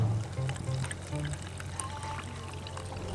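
Sparkling water is poured on a sunny Greek island, heard as a soft, continuous close pour and fizzing trickle with a few low bubbling glugs at the start, and no talking.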